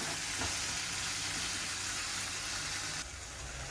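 Chopped tomatoes sautéing in a pan while cooking a brinjal dish, a steady dense sizzle that continues evenly throughout with no talking.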